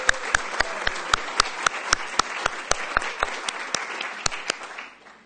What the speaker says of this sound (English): So we send him an applause,